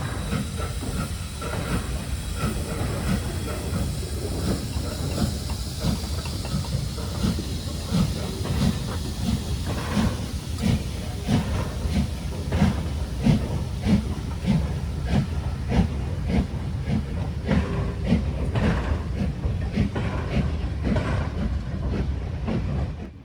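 Black 5 steam locomotive 45407 passes at Banavie on the West Highland line, crossing the Caledonian Canal with a morning train from Fort William, giving a steady hissing, rumbling roll with rhythmic clicking wheel beats throughout, fairly close and loud.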